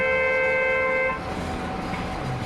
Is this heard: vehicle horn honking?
yes